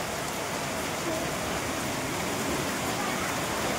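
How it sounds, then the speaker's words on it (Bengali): Heavy rain pours down in a steady, dense hiss that stays constant throughout, with no pauses or distinct drops standing out. "দেখো বৃষ্টি পড়ছে জোরে জোরে।"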